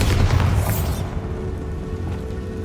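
A heavy, booming blast from the Bombarda spell in a video game, loud and close, its deep rumble bursting at once and then fading into a low lingering roar over a couple of seconds.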